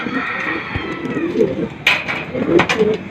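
Racing pigeons coming back to the loft after a rainy training flight give soft, low coos amid rustling and background hiss, with a few brief sharper calls near the end.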